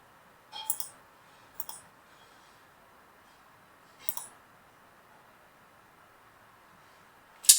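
A few quiet computer mouse clicks, separated by pauses, in an otherwise near-silent room while an AWS EC2 instance is being set up, with a sharper click at the very end.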